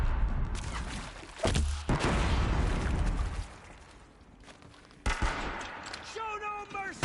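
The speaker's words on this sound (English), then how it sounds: "You have a Gatling gun." A Gatling gun in Horizon Zero Dawn fires in loud sustained bursts with heavy impacts and booms, separated by quieter gaps, within dense combat noise and with some talk.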